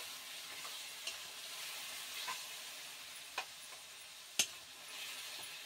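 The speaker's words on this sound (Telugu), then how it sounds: "ఇంకా ఇందులోనే కర్డ్ పెరుగు కూడా వేసుకొని కొద్దిసేపు ఇలా కలుపుకోవాలి" Curd is stirred into biryani masala in a pot, a faint steady simmering hiss with a few soft clicks and scrapes of the spoon, quiet and close with no talk.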